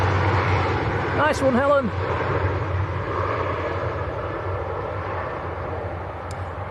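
An airliner departing Manchester Airport for Luxembourg gives a steady, distant engine roar and rumble that slowly fades, while a person speaks briefly over it.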